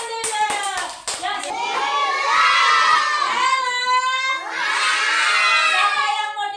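A class of children bursting into rhythmic clapping that swells into loud cheering and shouting, a crowded room of young voices close by.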